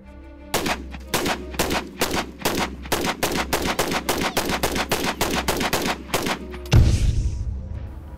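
Rapid shots at an outdoor shooting range on a large open property, a steady string of sharp cracks about three or four per second, loud and close, ending with one heavier boom and a long rumbling tail.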